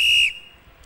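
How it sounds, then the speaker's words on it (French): A single sharp, shrill whistle blast blown at a downhill race, loud and close, cutting off after about a quarter second into quiet. "Attention, on va siffler."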